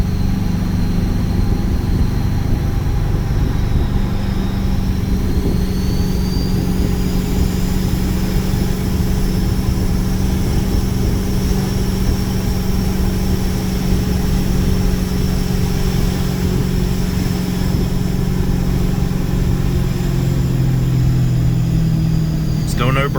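A compound-turbo Ford 6.7 Powerstroke diesel truck tows a load with its exhaust brake engaged, giving a loud, continuous engine drone with a steady whine riding above it throughout.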